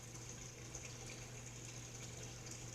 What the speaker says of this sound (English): We're going to drain the water out of this.